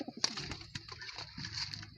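Racing pigeons cooing in a loft, soft low coos with a few sharper flutters and knocks, close and fairly quiet, with no talk.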